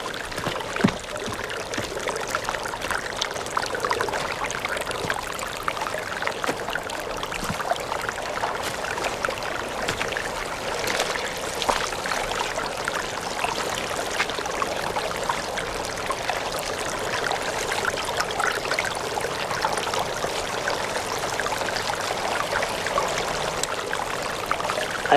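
Steady rushing water pours continuously from a loose pipe for the whole stretch, a broad even splashing hiss with no pauses or talk.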